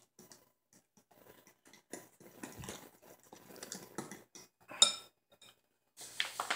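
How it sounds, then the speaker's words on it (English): A utensil scrapes and clinks against a bowl while flour is mixed into a loose pizza dough batter, intermittent taps and stirring scrapes with quiet gaps between. "So I'm going to mix in just enough flour to make that pancake batter consistency."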